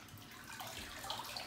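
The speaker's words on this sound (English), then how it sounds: "Is that the water you're using for rinsing?" Tap water running into a sink for rinsing a puppy, a soft, faint hiss and splash lasting a moment.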